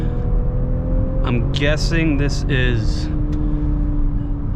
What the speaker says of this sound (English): a straight six, probably turbo, maybe even twin turbo. It makes a really good noise.